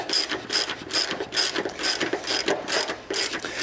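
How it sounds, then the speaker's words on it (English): A ratchet tightens an Allen head bolt on a spring lift assembly, giving a steady run of about eight rapid clicking strokes, close and fairly loud, with no talking. "Now on this Allen, again, I'm tightening that one up completely."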